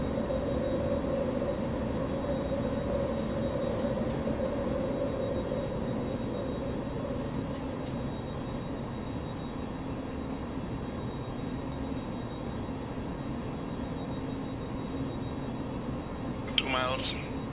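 Steady, loud engine roar of a Boeing 737-200 climbing after takeoff in a flight simulator, a constant broadband drone with a faint tonal hum running throughout, with a voice talking over it.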